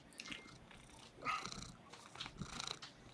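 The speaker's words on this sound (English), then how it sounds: "Hey, kitty." A house cat purrs softly and steadily, close but faint, with a brief louder rumble near the middle and no talk over it.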